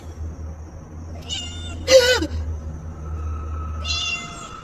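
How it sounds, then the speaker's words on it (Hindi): A cat meows a few times, close by, with short drawn-out cries separated by pauses over a low steady hum. "और तभी मेरे कानों में बिल्ली की आवाज आई।"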